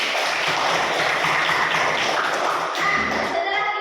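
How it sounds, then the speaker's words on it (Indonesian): A classroom group applauds, with loud, steady clapping filling the room and then tapering off at the end. "Oke, tepuk tangan untuk kita semua."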